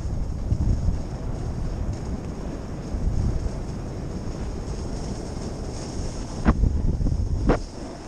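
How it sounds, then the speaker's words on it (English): Strong wind buffeting a microphone outdoors, a continuous low rumbling roar with gusts swelling and easing throughout, with no talking. "Oh, that wind feels amazing."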